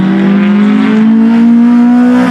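A Toyota Corolla four-cylinder engine fitted with individual throttle bodies revs hard and close, a loud rising howl that climbs steadily in pitch through the whole stretch.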